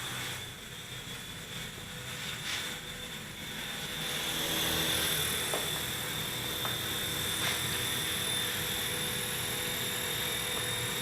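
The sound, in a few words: Silverlit Metal Copter toy helicopter hovering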